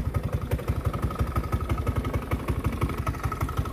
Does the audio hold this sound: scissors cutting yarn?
no